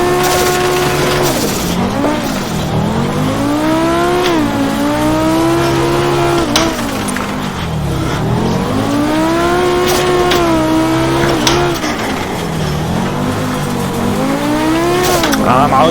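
Group B Audi rally car in a video game, engine revving hard on a gravel hillclimb, loud and continuous, with pitch rising and falling through gear changes.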